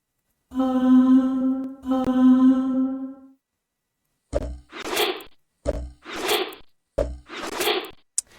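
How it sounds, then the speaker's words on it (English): Procedural token animation effects from a game: two sustained bright magical heal tones, then several sharp arrow whooshes, each ending in a thwacking impact, spaced evenly and heard alone. "This way we can add sounds to the heal and arrow animations"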